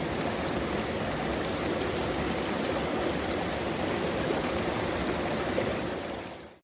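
Water rushes steadily through a large DIY sluicebox, a dense, even churning flow that stays close and loud throughout before cutting off at the end.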